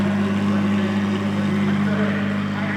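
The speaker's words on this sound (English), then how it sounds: "Listen to that engine." Race-tuned Ferrari Challenge race car with a twin-turbo V6 and seven-speed F1 dual-clutch gearbox idling at an auction, a steady low drone with a constant hum, loud and close under background chatter.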